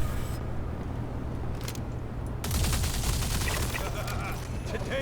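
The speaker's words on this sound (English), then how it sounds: "Laying down covering fire" Gunfire from a sci-fi shooter erupts in Star Citizen as a rapid, dense volley of shots that starts after a quieter stretch and carries on loud through the rest of the clip.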